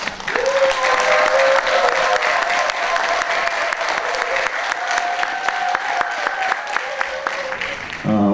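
Sustained audience applause at a memorial ceremony for the June democratic uprising, a thick, even wash of many hands clapping for several seconds, with a few sharper claps near the front and a steady tone running underneath.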